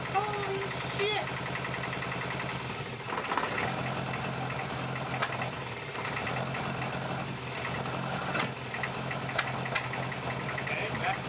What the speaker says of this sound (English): Okay, backfiring. The timing could be off, but with a little throttle, she idles.